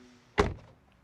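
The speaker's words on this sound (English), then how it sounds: "and door closing sound" The frameless door of a 2026 Mazda 6e sedan shuts with a single solid, muffled thunk close by, which fades quickly into quiet.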